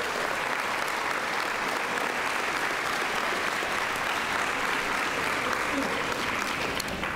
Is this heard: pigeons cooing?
no